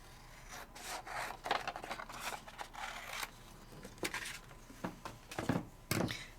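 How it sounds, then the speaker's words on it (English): Scissors cut a sheet of mixed media paper in half with a series of short, crisp snips and rustling rubs, each cut a separate burst, close and fairly quiet, with no talking. "I think I'm going to cut it in half"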